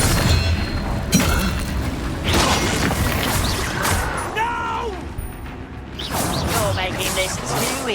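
Spell combat in Hogwarts Legacy with a Bombarda blasting spell going off, heavy booms and crashes mixed with clanking mechanisms, swooshes and a shouted voice.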